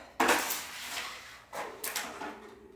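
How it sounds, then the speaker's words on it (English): A dog plays with a plastic water bottle indoors during a chair Pilates session, making two loud close crackling crunches, the first long, followed by a few lighter knocks. "He has a plastic water bottle, so that is the effect, the sound effect that you hear."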